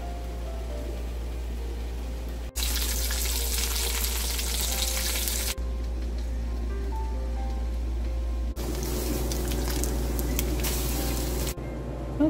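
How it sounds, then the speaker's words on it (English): Corn cooking in a pot into grits gives a steady bubbling and sizzling simmer. It runs the whole time, with a few louder, brighter stretches of spattering. "And this is the corn that is cooking right now."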